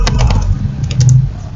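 Rapid keystrokes clatter on a computer keyboard as network commands are entered, a close, busy run of clicks with no voice over them.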